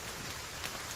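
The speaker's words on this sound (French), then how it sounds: "Il y a un orage et une pluie battante." Heavy pouring rain during a thunderstorm, a dense, steady hiss of drops close by with no distinct thunderclap and no voices.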